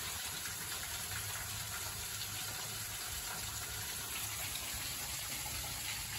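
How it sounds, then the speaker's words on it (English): Water gushes out from under the back of a bluff into a small hand-dug trench, a constant close rushing hiss that never lets up. "there was too much water coming out from under the back of the bluff"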